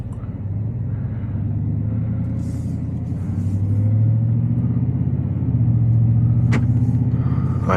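A lowered, supercharged 2026 Ford F-150 Black Widow pickup in sport mode drives with a deep, steady engine rumble heard from inside the cab, slowly growing louder as it picks up speed.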